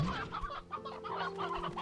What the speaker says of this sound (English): Chicken do seem to be somewhat escaping.